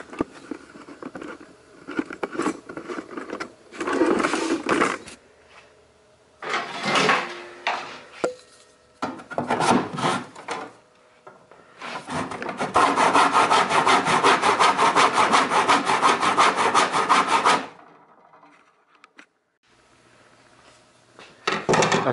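Handsaw cutting through clamped wooden pieces for a doll bunk bed, short bursts of rasping strokes followed by a long steady stretch of rhythmic sawing, close by with quiet pauses between, no talking.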